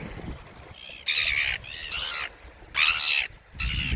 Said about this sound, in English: seagull doesn't like me